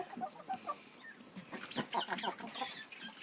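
Bantam chickens cluck and a rooster chatters in short, busy bursts, fairly close, with several birds calling over one another.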